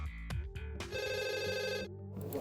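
A telephone rings at a police 112 emergency call centre with a few short electronic bursts and then one sustained bright ring, heard close and clear with no talking.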